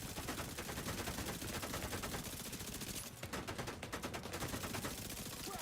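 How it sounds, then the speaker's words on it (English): Dense, continuous automatic gunfire in a shooter video game, loud and sustained throughout with rapid overlapping shots and a brief burst of sharper crackling near the middle. "Now someone's shooting with a gun."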